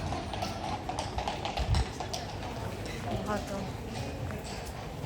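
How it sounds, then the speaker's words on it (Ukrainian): Hooves clip-clop at an easy, irregular pace on a hard street in central Kraków, with faint background voices and outdoor bustle. "коні он їдуть"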